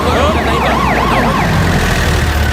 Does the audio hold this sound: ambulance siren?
yes